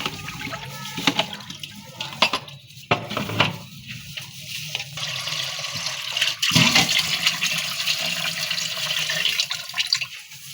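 Water splashes and sloshes as raw meat is rinsed and handled in a bowl, with irregular wet swishes and a few knocks, close by.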